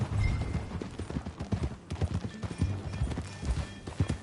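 Horse hooves clip-clop in steady rhythm as riders move along in a PS4 game, with scattered game sounds around them and short low voice bits of dialogue in between.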